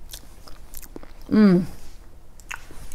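A person tastes chocolate buttercream frosting, with soft close mouth and chewing sounds around a brief voiced murmur of appreciation, in an otherwise quiet kitchen.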